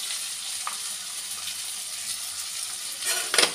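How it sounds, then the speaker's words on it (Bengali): Chopped chili and onion fry in a pan with a continuous bright sizzle, as a spoon stirs them with light scraping and clattering that grows louder near the end. "তো এবার এটা ভালো করে নেড়ে চেড়ে নিব, নিয়ে ফ্রাই করে তারপর ডিমটা দিয়ে দেবো।"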